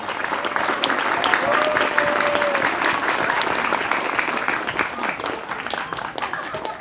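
Sustained audience applause from a crowd at an Islamic school community gathering, steady and fairly loud throughout with dense overlapping claps.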